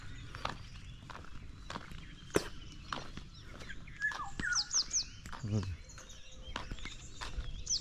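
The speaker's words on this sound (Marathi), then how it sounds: "इकडं पक्षी बिक्षी आवाज करतात, तुम्हाला आवाज येत असतील।" Birds chirp and call outdoors in the Konkan countryside in the morning in short bright bursts, mixed with footsteps and a person talking nearby.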